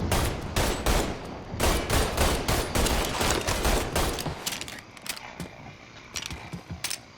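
Rapid bursts of gunfire from the video game Mafia III, loud and close, dense volleys that thin out into scattered single shots toward the end, with no talking.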